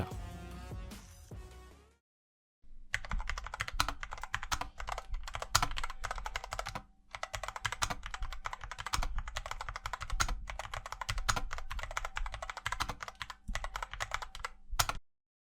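A Cooler Master SK622 wireless low-profile keyboard with red TTC switches is typed on in quick, dense runs of light clicks. A short pause and a brief gap break the typing.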